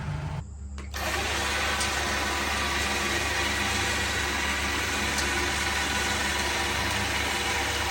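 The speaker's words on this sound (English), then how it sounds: "using the winch to get it up on there" A winch pulling a 1985 Jeep CJ7 onto a car trailer: a steady, loud mechanical drone and hum running throughout after a short break at the start, with faint ticks above it and no talk.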